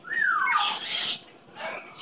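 A pet bird gives a couple of close, loud squawks with a whistled, sliding tone, a sustained call followed by a shorter second one, with no talking over them.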